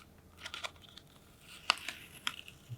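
Tape being gently peeled by hand off 120 photographic film: a few quiet, brief crackling tears and crinkles in scattered bursts, close and faint in an otherwise quiet room.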